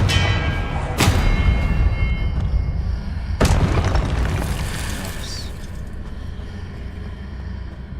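Confringo blasting spells in the Hogwarts Legacy video game: two loud booming bursts about two seconds apart, each followed by a long rumbling decay under a steady background of game sound.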